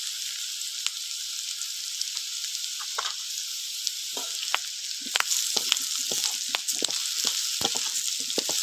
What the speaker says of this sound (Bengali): এবার আলুটা ভালো করে কষিয়ে নেব